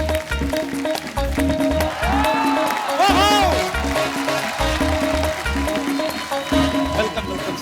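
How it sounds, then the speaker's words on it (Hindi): Studio audience applause and cheering on a Hindi TV comedy show, welcoming actor Jeetendra and producer Ekta Kapoor; a steady, loud wash of clapping runs throughout beneath a host's excited voice and music. "आप सबकी जोरदार तालियों के बीच स्वागत करना चाहूंगा"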